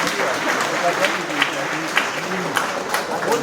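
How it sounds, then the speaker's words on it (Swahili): Applause rises from a crowd at the Friends Church main conference at Senende High, a dense, steady clapping close by that fills the whole moment, with voices mixed in beneath it. "Tupigie hao makofi tena."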